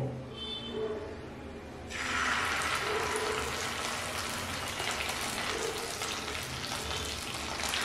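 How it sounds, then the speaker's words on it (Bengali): Maida dumplings going into hot oil in a nonstick wok, quiet at first, then a sudden loud, sustained sizzle and bubbling that continues steadily up close. "এবার এক এক করে ময়দার ওই বড়াগুলো ভেজে নেব"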